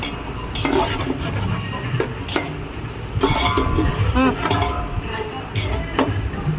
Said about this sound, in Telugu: బాగా కలుపుకోండి.